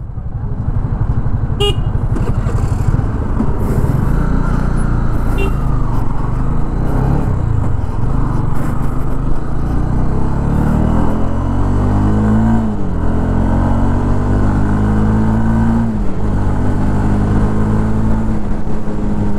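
Honda CB300F motorcycle, a 2024 model, being ridden with traction control switched off: loud, continuous engine drone with rising and falling pitch as it revs through the gears, plus steady wind and road roar, no talking.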